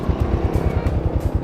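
Yamaha Sniper 155 motorcycle with a Kalkal exhaust pipe idling close by, a steady low throbbing pulse with even, rapid firing beats and no voices.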